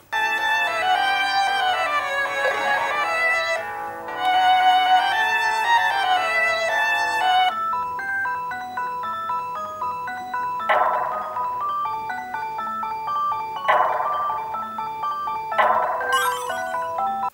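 Chiptune music from the Columns game on an AtGames Mega Drive console, bright synthesized melody over a repeating bass line, steady and tonal with periodic percussive accents, no speech.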